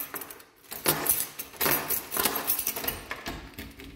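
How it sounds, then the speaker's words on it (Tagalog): A bunch of about four room keys jangles and clinks in the hand, in repeated short metallic bursts close to the listener with no talking. "Ang dami niyang binigay sa akin susi."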